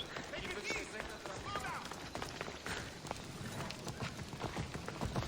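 Hoofbeats of a galloping horse in Assassin's Creed Odyssey, a steady rhythmic clatter at moderate loudness under ambient game sound and talk.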